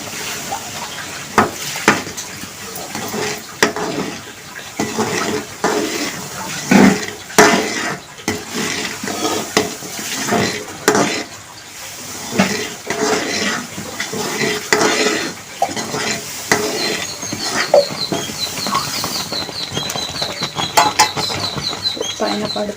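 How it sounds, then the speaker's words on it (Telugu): Upma rava (semolina) gets stirred in a cooking pot, a spoon scraping and knocking against the metal in an irregular rhythm over a low background, with occasional voices. "సో జాగ్రత్తగా కలుపుకోవాలి"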